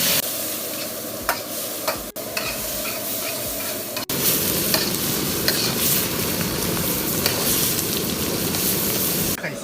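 Minced meat and scallions stir-fry in oil with a loud, continuous sizzle that swells after a few seconds, broken by occasional scraping stirs, close and steady with no talking.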